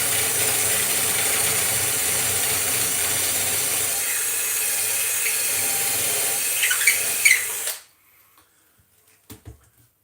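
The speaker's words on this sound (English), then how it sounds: "Drill out the centre," A hand drill bores into the centre of a wooden carving blank with a steady grinding, ratcheting whir for several seconds before stopping abruptly, followed by a few faint knocks.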